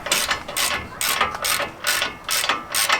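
Ratchet loosening an upper control arm bolt on a 2019 Ford F-150 EcoBoost during a leveling kit install, giving a close, rhythmic series of clicking strokes, about two per second.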